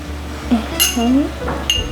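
Glass jars of homemade jam clink together in a toast, two bright clinks about a second apart over a faint voice and low room hum.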